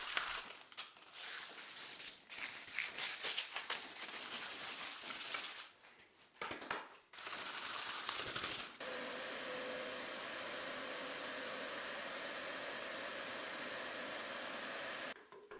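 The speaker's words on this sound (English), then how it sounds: "so I ended up sanding it." Steady abrasive sanding of hardened epoxy on a wood slab, loud and close, in long continuous strokes with a few brief pauses, then a smoother constant grinding hiss.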